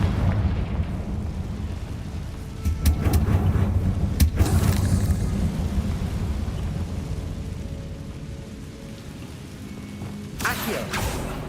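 Fiery Confringo spell blasts from the Hogwarts Legacy video game: two sharp booming bursts, one mid-way and a smaller one near the end, over a steady low ambient rumble.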